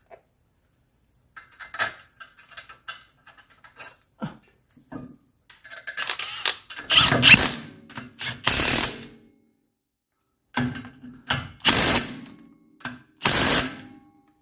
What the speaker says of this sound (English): I was torquing down these two bolts right here